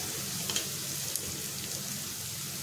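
Onions and spices fry in a pan with a soft, continuous sizzle and a few faint crackles and pops, steady and close, with no talking.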